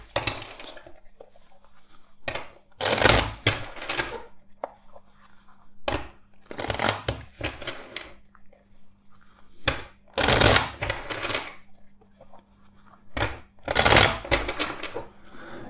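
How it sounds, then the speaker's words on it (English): Repeated bursts of riffling and crackling, several quick flurries spaced a few seconds apart, close and fairly loud, with quiet gaps between them and no talking. "Let's shuffle the deck four times for you."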